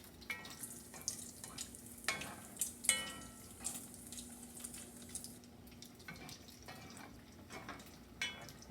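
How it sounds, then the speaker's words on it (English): Salmon balls frying in hot oil with the oil splashed over them and kept moving, a steady crackling sizzle with small pops and occasional stirring and splashes, close and fairly quiet, with no talking. "Now while we're frying our salmon balls"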